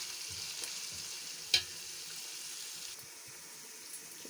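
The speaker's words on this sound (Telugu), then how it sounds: "ఇప్పుడు ఉల్లిపాయ ముక్కలు వేసాం కదా, ఇది కొంచెం బ్రౌన్ కలర్లోకి వచ్చే వరకు వేద్దాం." Onion pieces frying in hot oil for a fish curry, a faint, steady sizzle with a single sharp clink partway through and no talking.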